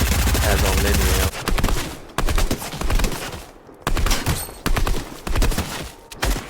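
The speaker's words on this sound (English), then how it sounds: "Even with this SMG, the non-silence SMG, non-suppressed" Non-suppressed SMG firing in a shooter video game, loud rapid bursts in repeated strings with short gaps between them, close and dominant.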